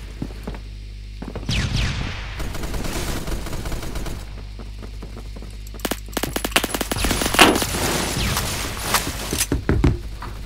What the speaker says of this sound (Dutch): Het was schoten zoveel gelost dat je mijn beeld me trilde.